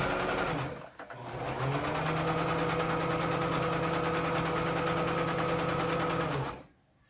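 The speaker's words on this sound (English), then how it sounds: "I'm just taking pictures of her sewing a big, long, rectangular tube." A sewing machine runs a long continuous seam on a big rectangular fabric tube, a steady whirring buzz close by after a brief start, stopping abruptly near the end.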